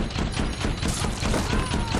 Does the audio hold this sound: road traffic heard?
no